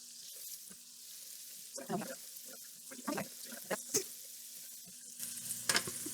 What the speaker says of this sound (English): We're gonna scoot everything over to the side and drain the grease.